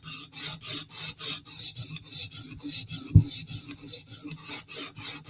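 A knife blade rasps back and forth across a CBN sharpening stone in steady, rhythmic forward and backward strokes, about two per second, close and fairly quiet with no talking.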